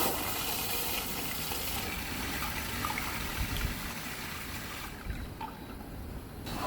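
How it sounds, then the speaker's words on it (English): An N50 smart toilet runs its small flush, a dense rushing of water that holds steady for several seconds before tapering, heard close and alone. "Press the small flush button to activate the small flushing function."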